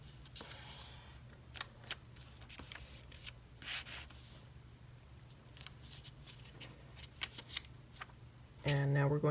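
Origami paper being folded into a kite shape for a bunny, with soft crinkling, rubbing and creasing rustles spread through the quiet, close-up scene, ending in a brief louder burst of handling noise.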